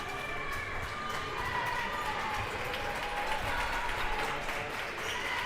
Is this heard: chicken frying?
no